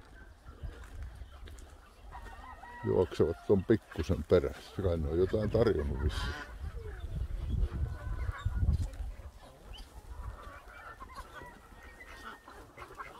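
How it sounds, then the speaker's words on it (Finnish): Geese and other fowl at a local bird park in Heinola, honking and calling in a busy flock close by, mixed under steady conversation from people walking among them. "Tämä on mieletön määrä näitä lintuja."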